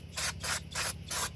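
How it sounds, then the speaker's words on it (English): Brake cleaner sprayed onto the brakes of a 2005 Chrysler Town and Country, in three short hissing bursts close to the microphone, with a low background hum. "take the brake clean. Make sure you just give it a quick spray"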